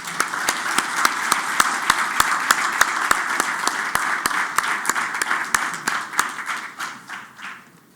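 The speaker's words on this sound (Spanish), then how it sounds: "Les pido un fuerte aplauso." An audience at a conference on corn crop ecophysiology gives a warm round of applause for an honoree. Sharp, evenly paced claps stand out over a steady crowd wash, then fade and trail off near the end.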